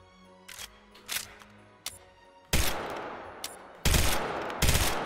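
D5 Copperhead, a Titanfall weapon, fired in the H3VR virtual reality shooter: several sharp, close shots ring out in an uneven rhythm. Bursts start light and short, then turn into longer, heavier blasts that each hold for a moment.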